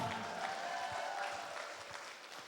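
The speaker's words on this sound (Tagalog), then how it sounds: "Lalo na pag malalakas pumalakpak." Loud, steady applause from a church audience at a healing service, a continuous wash of clapping with a few sharper claps standing out throughout.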